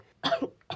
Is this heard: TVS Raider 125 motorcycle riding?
no